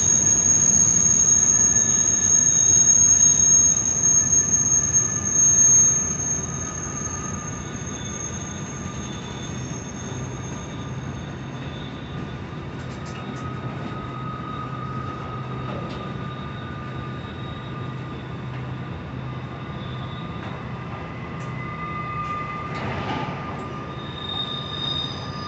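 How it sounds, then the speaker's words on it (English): A train rolls steadily around the Horseshoe Curve railway, a long continuous rumble of wagons with squealing wheels on the bend, loud and near at first, then easing slightly as the cars keep passing. "Get this awesome train action."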